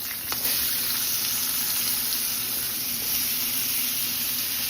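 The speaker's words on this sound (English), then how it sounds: "We're gonna drop our onions in there." Onions dropped into hot pork chop grease in a pan give a steady, close hiss and sizzle that holds evenly throughout, with no talking.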